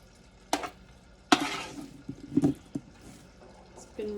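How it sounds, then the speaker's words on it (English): Roasted sweet potatoes stirred in a pan, with a few separate scraping, clattering strokes and a faint sizzle between them, close and fairly quiet. "I'm going to stir the root vegetable"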